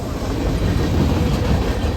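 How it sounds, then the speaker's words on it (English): A YN2-liveried locomotive hauls a train past a nearby road crossing, its loud, steady rumble and rolling wheel noise filling the whole moment with no pauses. "Chased the train with a YN2 again and caught him at this nearby crossing"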